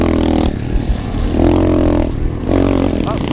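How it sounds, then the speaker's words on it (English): SSR 125 pit bike pulling fourth-gear wheelies on a trail, its engine revving up and down in three surging pushes with rattly mechanical clatter, close and loud. "Fourth gear wheelies, guys."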